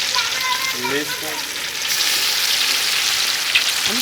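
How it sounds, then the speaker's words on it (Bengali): Large pieces of fish fry in hot oil in a kadai, giving a steady, dense sizzle that crackles and spits without pause for the whole stretch. "আমি আগে বড় বড় দেখে মাছগুলো ভাজি নিচ্ছি"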